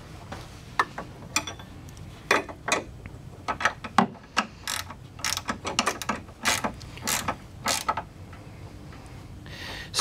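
Socket wrench ratcheting on a bolt while fitting a custom splice aluminum winch fairlead, a steady series of sharp clicking bursts close up with brief pauses between strokes.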